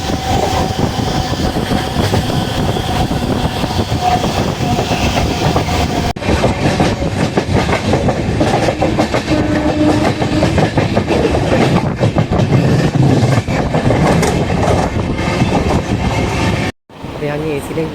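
Sabari Express LHB passenger train running on rails, a loud continuous rumble with rhythmic clickety-clack heard from inside the coach, with voices and a brief dropout near the end.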